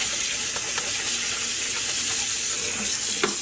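Tap water runs steadily over dyed wool yarn being rinsed in a sink, a continuous hiss with faint splashes and small clinks.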